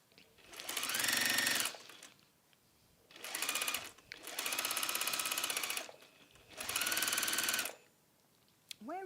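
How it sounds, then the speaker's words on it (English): An industrial sewing machine stitches in four loud, close bursts of rapid mechanical whirring and clatter, separated by short pauses. "I bought a proper industrial sewing machine"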